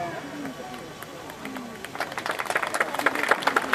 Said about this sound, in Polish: Brawa dla Pana, zapraszamy na scenę doradca wojewody Adam Pilarski